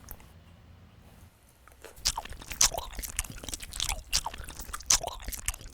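A mouthful of gum is chewed close up, with wet, squishy bites and smacks coming in irregular bursts after a brief quiet start.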